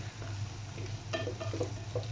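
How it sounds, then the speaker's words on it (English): Soft, steady sizzle of onion and potato frying in a pan, with a few faint scraping and stirring clinks over a low background hum. "after 5 minutes of frying the onion, the potato"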